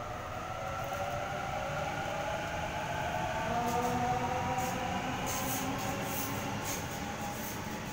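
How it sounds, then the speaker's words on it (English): A Sydney Series 1 Waratah train pulls out of Campsie station, its motors whining in rising and falling tones over a steady rumble, with faint high squeals near the end. "Series 1 Waratah set A78, now departing Platform 1, City Circle by Sydenham Service"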